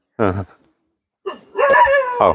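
A dog barks close by with short, sharp yelps and a longer whining howl, separated by brief silences.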